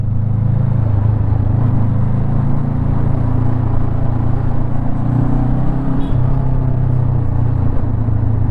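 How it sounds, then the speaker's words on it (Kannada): Steady low rumble of a 2024 Honda NX500 motorcycle engine while riding on a city road, running continuously at an even pace with wind and road noise and no talk. "ಇಂಜಿನ್ನ ರಿದಮ್ಮು ಯಾವ ಥರ ಕೇಳಿಸ್ತಿದೆ ನೋಡಿ"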